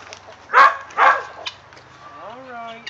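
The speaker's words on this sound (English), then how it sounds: "he'll keep barking unless I give him a scoop" A pet dog lets out two loud, sharp barks close by, followed by a softer whimpering whine as it waits for a treat.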